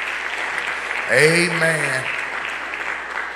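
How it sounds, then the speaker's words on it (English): A church congregation claps hands in praise during a worship service while a voice calls out a drawn-out word over the steady, fairly close clapping. "Somebody give the Lord a hand clap of praise in this place."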